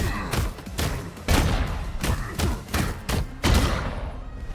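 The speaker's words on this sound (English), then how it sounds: "those explodey attacks are serious" Explosive attacks in the beat 'em up game KIBORG: Arena burst out as a rapid run of loud, punchy booms and thuds, about seven or eight blasts in quick succession with no talking.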